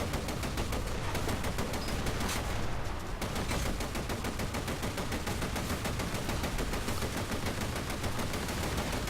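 Rapid, continuous gunfire from naval guns in the War Thunder combat game, a dense, loud stream of shots sustained throughout without pause.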